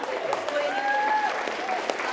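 A board meeting crowd gives a sustained round of applause for a girls' team that won by two points, a dense, even wash of clapping with a few whistle-like tones and voices mixed in.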